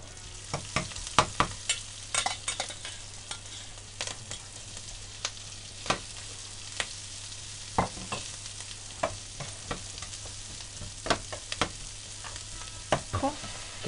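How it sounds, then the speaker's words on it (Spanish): Cooked chickpeas and serrano ham fry in olive oil under a faint hiss, with sharp, scattered spoon clicks and scrapes against the pan across the whole stretch, near and without talking. "Voy a refreír esto y voy a echarle unos garbanzos que vienen ya"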